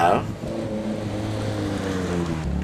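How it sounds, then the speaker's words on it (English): An Alfa Romeo drives by on an open road, a continuous engine drone with a brief louder burst at the start, holding steady and close throughout. "Here we have an Alfa Romeo."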